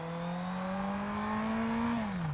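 A motorcycle engine pulls hard in a low gear, its steady rising drone climbing in pitch then easing off as the rider accelerates onto a fast road, fairly quiet and heard without talk.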